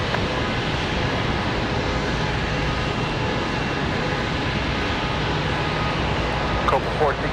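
A Copa Airlines jet in special livery taxis at Raleigh-Durham International Airport on a windy day, its steady engine roar broad and constant throughout with wind noise mixed in.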